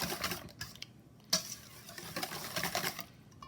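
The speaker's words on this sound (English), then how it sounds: "So we're going to whisk that together." Cream and eggs whisked together in a bowl for a frittata or quiche, giving soft rhythmic ticking and clinking strokes with a sharper clack partway through, close and fairly quiet with no voices.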